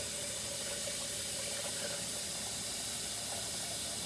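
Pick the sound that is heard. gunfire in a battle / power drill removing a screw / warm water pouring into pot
warm water pouring into pot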